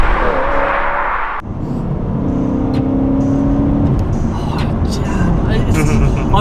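A manual BMW M3 E92 of about 400 horsepower accelerates hard, its engine note rising in a loud, steady rumbling roar heard from inside the car, with voices faintly present.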